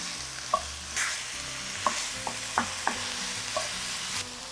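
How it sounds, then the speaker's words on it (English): Lamb pieces brown in a hot pan with a steady sizzle, broken by several sharp clinks and scrapes of stirring at irregular intervals. "And I'll just brown them before I add in the rest of the ingredients"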